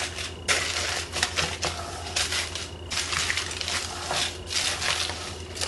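Aluminum foil is crinkled and pressed around the sides of a springform pan, giving a steady run of crisp crackling and rustling bursts at close range, with no talking.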